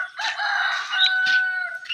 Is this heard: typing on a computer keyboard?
no